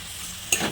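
Fried vegetables tipped all at once into spice paste sizzling in oil, a sudden loud splash-sizzle after quiet simmering background near the end.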